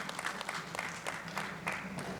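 An audience at an international education conference panel claps steadily in a room, a dense round of applause with a voice speaking faintly underneath.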